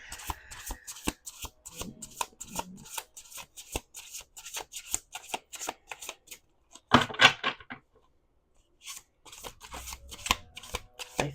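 A deck of tarot cards being shuffled up close, a steady run of crisp riffling flutters with a brief louder burst near the end and a short pause before the shuffling resumes.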